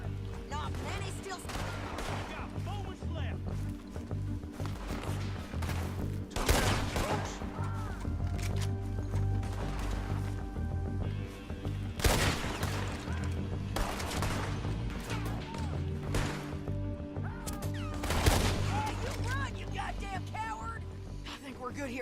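Gunfire in Red Dead Redemption 2 during a wagon ride, sharp shots cracking out at intervals over a constant rumbling bed of wheels and movement, with voices talking between them.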